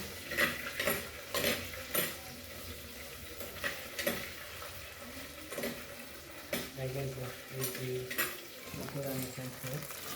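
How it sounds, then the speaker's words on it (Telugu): Green chillies sizzle in hot oil in a pan while a spoon scrapes and stirs them, with repeated clatters of utensil on metal and a voice talking over the cooking. "పచ్చిమిర్చి వేసుకొని కలుపుకోవాలి"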